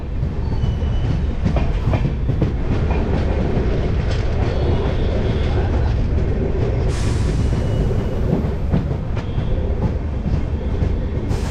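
A popular Puri-to-Kolkata passenger train pulls into Delang station on a dark night. It makes a steady, loud rumble with clattering wheels that continues throughout, and no talk is heard over it.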